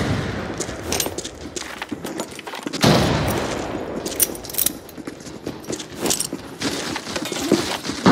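Grenades and firefights in Arena Breakout Infinite produce a loud, dense mix of gunshot bursts and booming explosions, with a heavy blast partway through and continuing scattered shots and clatter afterward.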